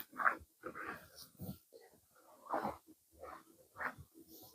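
A puppy whimpers and breathes in several short bursts close by, with soft sniffly, wheezy sounds between the whines and no talking over them.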